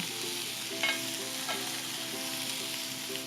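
Pineapple pieces sizzling in a pan as they are flipped, giving a soft, steady frying hiss with a couple of brief clinks and scrapes from the turning, close and moderately quiet.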